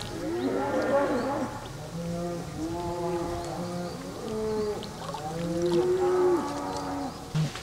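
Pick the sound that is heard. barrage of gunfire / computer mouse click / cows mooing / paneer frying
cows mooing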